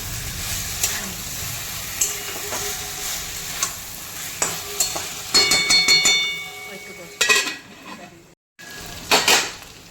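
Chicken masala sautéing in oil in a pan, with a soft sizzle underneath and a spoon repeatedly scraping and clinking against the pan in irregular strokes, some sharper metallic knocks and a brief quiet gap near the end.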